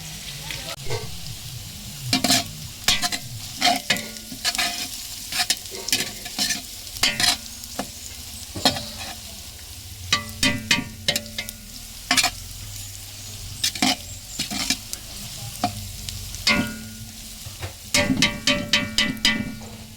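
Ginger and garlic fry in a pan while a utensil scrapes and stirs in frequent sharp strokes over a continuous sizzle, loud and close, with no voices.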